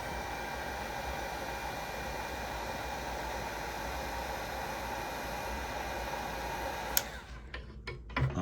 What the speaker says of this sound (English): So again, I just use a heat gun.